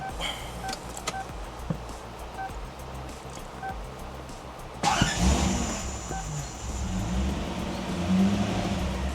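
A Lexus SC400 starting after an alternator replacement and wiring upgrade: quiet clicks and ignition chimes, then the starter cranks and the engine catches into a steady, slightly uneven idle, close and moderately loud.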